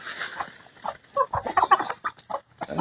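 Heritage chickens, full-grown hens, cluck in short irregular bursts, close and moderately loud, with no voices over them.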